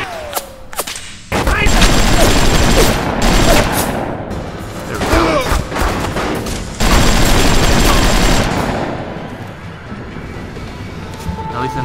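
Dense, loud automatic gunfire from the video game BioShock crackles in long sustained bursts, with a brief lull in the middle, scattered booms and distant voices beneath the shooting.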